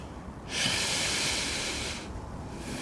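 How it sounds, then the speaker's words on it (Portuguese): One long, deep breath taken during a yoga flow, a loud airy rush lasting about a second and a half before fading into a quiet room. "uma última respiração bem ampla aqui"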